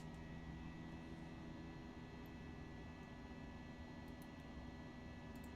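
An FSLabs A320 with jet engines at climb thrust in the Prepar3D flight simulator makes a steady, faint drone with a broadband roar and a few tonal hums that hold level throughout, with no talking.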